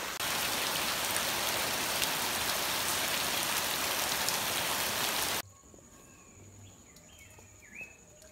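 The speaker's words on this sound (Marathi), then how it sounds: "तुमका दाखवते असं बघा कसं पाऊस पडतो तो मस्त" Heavy rain pours down in a loud, steady hiss for several seconds, then cuts to a much quieter outdoor scene with soft insect and bird sounds.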